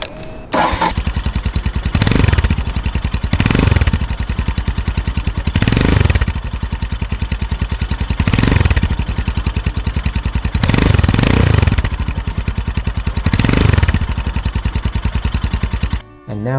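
A Royal Enfield Himalayan motorcycle fitted with a PoweRage aftermarket exhaust runs close and loud, with a steady thumping idle and several repeated throttle blips that swell and fall back.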